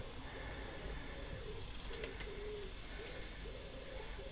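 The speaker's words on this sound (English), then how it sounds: "Sorry if you can hear the birds in the background" Birds outside an open window coo and chirp faintly in the background of a quiet room, scattered calls with light rustling and no talking.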